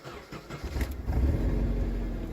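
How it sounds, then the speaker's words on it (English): A Nissan 240SX S14 starts up nearby, with a short starter crank followed by the engine catching and settling into a steady, low rumbling idle. "start up the car"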